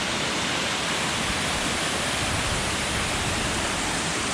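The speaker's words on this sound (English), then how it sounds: "Really the first substantial falling water." Waterfall on the Falling Waters Trail, a steady broadband rush of falling water, close and constant throughout with no voices.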